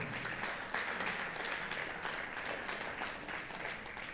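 A church congregation at a Sunday service breaks into sustained applause, a dense crowd of clapping that holds steady for several seconds.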